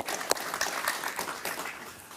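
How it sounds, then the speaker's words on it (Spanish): A television talk show studio audience applauds with dense, steady clapping that rises briefly and then begins to fade. "Un aplauso para él, por favor."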